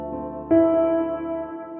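A soft piano-style synth preset chord darkened with EQ and washed in reverb for a soulful R&B trap beat, struck once and sustaining steadily as a warm, smooth pad, with no talking.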